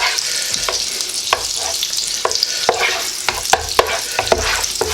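Chicken fried rice being stir-fried in a pan, with a steady loud sizzle and repeated sharp scraping and tapping as a utensil stirs and tosses the rice, no voices.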